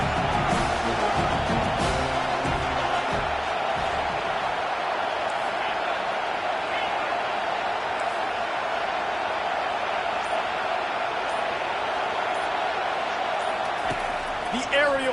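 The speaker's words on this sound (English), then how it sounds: "Decibels rising as the crowd gets behind this defense on third down" Football stadium crowd roaring on third down, a dense, continuous wash of loud cheering that holds steady throughout, with a commentator talking over it.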